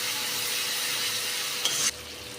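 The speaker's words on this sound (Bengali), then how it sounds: "আবারও আমি এটাকে খুব ভালো করে নাড়াবো।" Masala frying in oil for an egg omelette curry, a steady sizzle of spices in hot oil with a brief scrape of a spoon stirring the pan near the end, close and unbroken.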